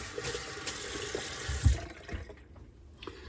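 A tap runs hot water from a home water heater in a steady rushing stream that fades noticeably after a couple of seconds, followed by softer trickling and small splashes.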